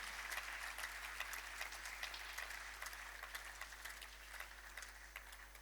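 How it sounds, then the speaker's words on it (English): Applause for the European Union at a formal award ceremony, a steady, fairly faint wash of many hands clapping that continues evenly throughout with no talk over it. "Please give a big applaud for EU"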